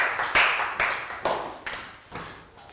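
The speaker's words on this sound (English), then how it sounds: "Round of applause for Pat." A small primary-school class gives a sparse round of claps for a classmate, about six separate sharp hits spaced roughly half a second apart, each quickly fading, with no talk.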